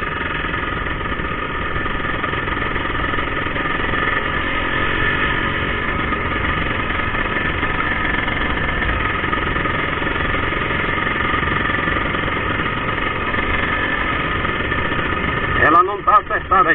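A Yamaha DT180 motorcycle engine runs close by during an evening ride in Garuva, holding a steady, rough droning note for most of the time, with a brief uneven burst near the end.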